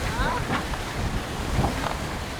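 A foiling racing sailboat in The Ocean Race Europe rushes through water, with steady wind buffeting the microphone and a broad wash of spray and hull noise. It is continuous and moderately loud, and no clear talk is heard.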